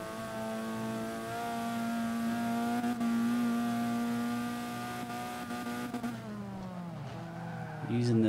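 Alfa Romeo C-class race car in Forza Motorsport 5 circuit racing, a steady loud engine drone at high revs that drops in pitch as the car decelerates under braking, then climbs again near the end.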